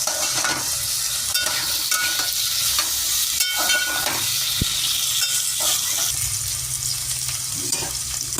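Potatoes frying in a pan for a khichuri, with steady close sizzling and occasional stirring scrapes throughout, no voices.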